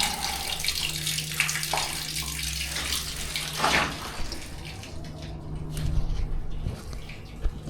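Water rushes and splashes steadily from an open drain on household plumbing during old valve replacement, close and continuous, with a few clanks and handling knocks mixed in.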